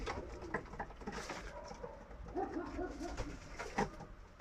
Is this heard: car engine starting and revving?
no